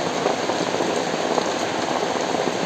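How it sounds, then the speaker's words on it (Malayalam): Steady drizzling rain falls outdoors during the afternoon, a dense, even hiss of drops on surfaces that continues unbroken throughout, with no voices. "അപ്പോൾ മഴ ഇങ്ങനെ ശക്തിയായിട്ട് ഇങ്ങനെ ചാറിക്കൊണ്ടിരിക്കുകയാണ്"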